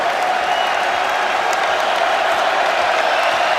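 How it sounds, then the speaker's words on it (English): A basketball arena crowd at Arkansas versus Southern roars and applauds steadily, a dense, loud wash of cheering and clapping filling the hall. "And the crowd on its feet."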